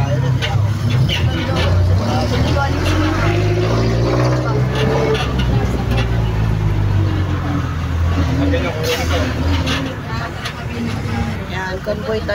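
A red car drives along a road during a convoy trip to Trece Martires, Cavite, its steady engine and road noise filling the recording loudly, with people talking over it.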